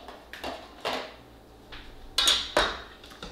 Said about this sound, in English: I'm just going to cut it up quickly inside the container and then dump it all in there